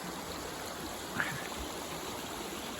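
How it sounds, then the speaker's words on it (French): Steady broadband wash of the Vézère river flowing beside a campsite, a continuous even rush with one brief faint knock partway through and no voices. "L'environnement, c'est cette rivière, la Vézère."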